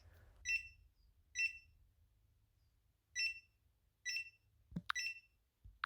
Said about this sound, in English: the alarm and light automatically turn off as soon as the sensor is removed from the water source